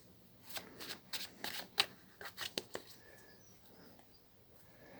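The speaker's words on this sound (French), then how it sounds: "je vais retirer quelques cartes" Oracle cards being shuffled and drawn: a quick run of crisp riffling flicks and snaps in the first three seconds, close and clear, then quiet handling noise with no talking.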